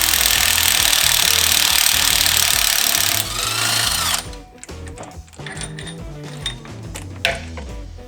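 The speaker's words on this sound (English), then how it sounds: "now we're going to remove the crankshaft bolt to be able to pull the harmonic balancer. We're going to be using a 24mm impact socket here." An impact wrench with a 24mm impact socket hammers loudly and continuously on a crankshaft bolt for several seconds, then stops, followed by sparse metallic clinks and handling sounds.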